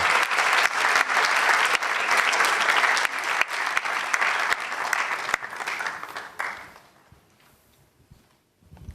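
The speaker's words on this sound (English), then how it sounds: "Clap well." Steady, dense clapping from a large audience at a national science and maths quiz, greeting a sponsor's CEO at the podium; it holds strong for about six seconds, then fades quickly to near silence.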